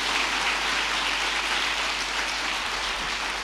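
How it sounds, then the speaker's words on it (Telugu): An audience at a church wedding testimony gives steady, dense applause, a loud, hissing wash of many hands clapping together with no voices over it. "ఒకసారి సంతోషంగా మీ చప్పట్లు తెలియజేస్తాం."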